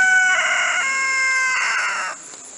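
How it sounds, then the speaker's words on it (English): A rooster crows loudly and close in a single sustained call, strongly tonal and held for about two seconds before it fades to a quieter tail. "Here's a rooster."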